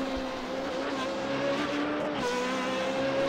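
A Formula 3.5 race car engine howls at high revs as it heads toward Tamburello corner at Imola, holding a steady loud whine with a slight pitch dip and recovery partway through, no talk.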